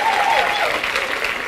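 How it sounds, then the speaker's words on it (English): An indoor audience bursts into dense, steady applause for a staff member at a public meeting, close and loud across the short burst, with a voice faintly under the clapping. "Can you give her a round of applause?"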